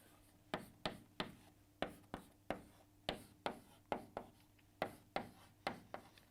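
A pen taps and strokes across paper while sketching a chemistry resonance structure, about fifteen crisp, evenly spaced scratches in a quick rhythm, close but quiet, with no talk.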